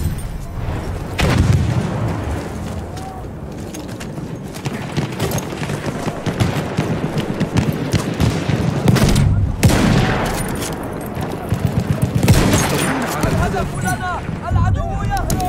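Loud gunfire bursts and heavy grenade explosions fill a Battlefield 1 game battle, with repeated booms and rattling shots under in-game voices shouting.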